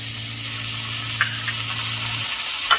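Fresh minced garlic sizzles in olive oil in a skillet over medium-high heat, giving a steady, fairly loud hiss with a low hum underneath and a couple of faint ticks near the end.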